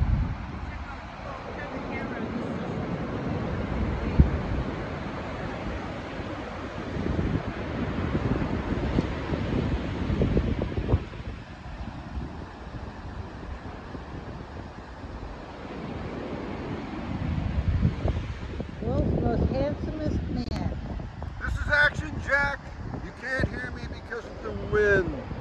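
Heavy wind buffeting the microphone beside the sea at Oceanside, California on a winter day, a constant roaring rumble with surf washing underneath and a voice faintly audible through the gusts.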